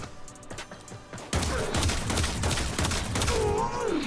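Kuva Seer pistol shots to the head in Warframe fire off as a loud, dense volley that starts suddenly after a quiet opening and then keeps going with sharp overlapping cracks.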